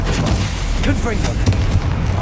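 A Confringo blasting curse erupts in Hogwarts Legacy, a loud explosive boom amid a dense, noisy combat soundscape, with some vocal sounds mixed in.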